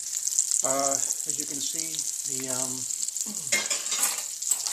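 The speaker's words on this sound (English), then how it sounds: "the veal brain pieces are frying up" Veal brain pieces sizzling and frying in a pan, a steady crackling hiss throughout, with a voice speaking briefly over it.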